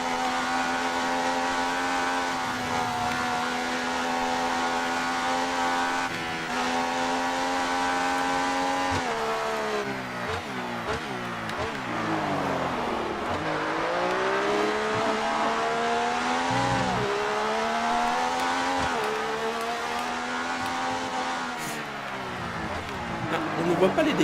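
Open-wheel race car at Monza in the F1 2018 video game, retro car with a damaged right wing, its engine whining loudly and steadily throughout with rising and falling pitch through gear changes, while someone talks over it.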